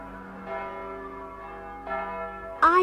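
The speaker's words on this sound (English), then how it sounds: "Suddenly, he heard the chiming of bells." Church bells chime in old London, a few ringing strokes with a lingering hum between them, moderately loud, one brighter strike coming near the end, and no talking.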